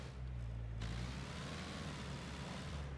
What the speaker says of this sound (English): Just wanted to do a nice little handbrake turn